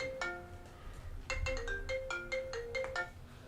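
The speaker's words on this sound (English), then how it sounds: "I think that will be my phone, right?" A mobile phone ringtone for an incoming call plays a bright, repeating electronic melody of short tones, close and clear, with no talking over it.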